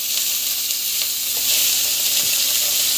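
Onion, tomato, carrot, coriander and mint sautéing in hot oil, a loud, continuous close sizzle with faint scraping stirs and no voices.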